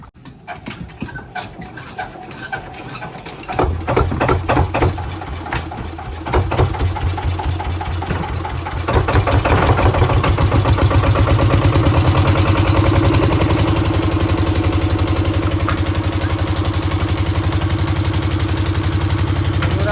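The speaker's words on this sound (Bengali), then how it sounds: "আমরা মেশিন স্টার্ট দিয়ে বেরিয়ে পড়েছি আজকে" A boat's motor on a Sundarbans river starts up after a few seconds of quiet, then runs steadily with a loud, rapid mechanical chugging that stays close and constant.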